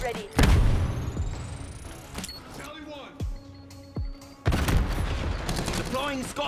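Call of Duty gunfire bursts out in dense, loud volleys at the start and again near the end, with scattered single shots and game effects between them and a voice talking over parts of it.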